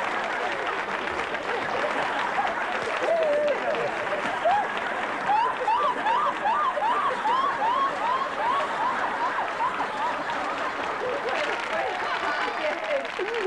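A studio audience at a television variety show applauds in a sustained wash of clapping, with a bright chirping melody and voices sounding over it.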